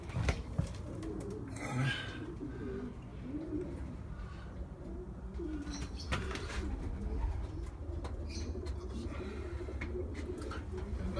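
Pigeons coo softly and repeatedly inside a loft, low throaty calls over rustling and faint background noise, with occasional chirps.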